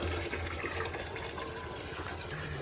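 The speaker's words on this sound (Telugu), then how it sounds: "వాటర్ నింపుతాము." Water gushes steadily as a container is filled on a farm, ready for mixing panchagavya, a broad continuous rush that stays even and fairly close throughout.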